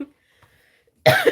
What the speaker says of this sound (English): So I still have a little bit of a cough today.